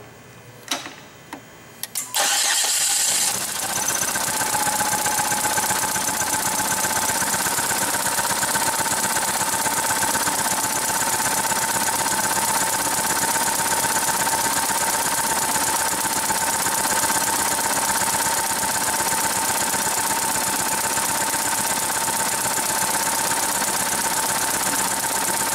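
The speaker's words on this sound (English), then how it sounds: "So I'm going to crank the engine and focus you on the vacuum gauge." A car engine cranks on the starter during a compression test, a loud, even, rapid mechanical churning that begins after a couple of seconds of quiet handling noises and carries on steadily for over twenty seconds without talk.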